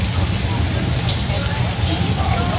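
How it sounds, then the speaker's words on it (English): Sprinklers on a Universal Studios set shower water that falls back like rain, a dense steady patter and hiss close by, with a low rumble underneath. "the sprinklers shoot the water upwards just a little bit, let it fall back down to the earth naturally."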